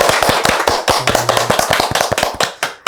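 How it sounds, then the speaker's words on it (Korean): Audience at a book talk claps in a brisk burst of sharp, close hand claps, loud and fairly rhythmic, tapering off at the end. "다시 한번 박수 치고 넘어가요."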